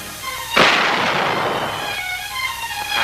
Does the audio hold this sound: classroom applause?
no